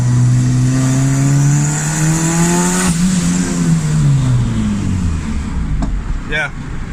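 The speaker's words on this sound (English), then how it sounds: "I'm about to find out what it boosts up to and basically test the boost cut if it doesn't work correctly." A turbocharged Honda Civic D16 engine revs loudly and continuously up toward boost cut, its rising drone wavering and then dipping as the revs are cut, with a brief sharp noise near the end.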